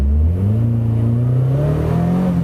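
A Caterham's naturally aspirated 2-litre Ford engine with 210 horsepower revs hard and close, its pitch climbing steadily as it accelerates with a loud, continuous roar.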